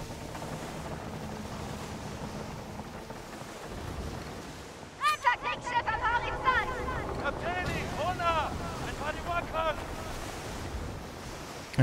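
Strong wind blowing across open sea while sailing in the Skull and Bones pirate video game, a constant rushing roar with surging waves and creaking ship sounds rising midway.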